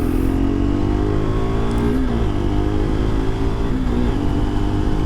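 A motorcycle fitted with a Givi Air Flow windscreen accelerates up a highway on-ramp, its engine droning steadily and rising slightly in pitch under constant loud wind rush, with no voices.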